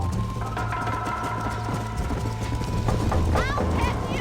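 A horse gallops in the Red Dead Redemption video game, rhythmic hoofbeats under a bed of music and ambient game sound, with brief voice-like whinnies or calls near the end.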